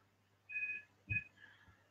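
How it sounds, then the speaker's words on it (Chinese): A telephone rings faintly in a quiet room, with two short tonal bursts followed by a softer third ring. "那个电话一直响哦"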